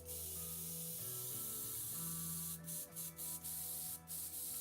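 An airbrush being rinsed after priming a miniature gives a steady, faint hissing spray, broken by a few short sharp bursts near the end.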